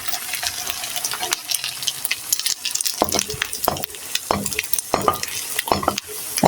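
Lentil snack frying in very hot oil in a pan, a steady bright sizzle with sharper crackles and spatters bursting through from about the three-second mark.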